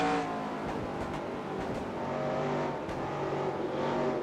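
NASCAR stock car engines in the video game NASCAR Racing 2003 whine and rev at moderate volume, a steady blend of several motors driving away, with a few brief sharp clicks.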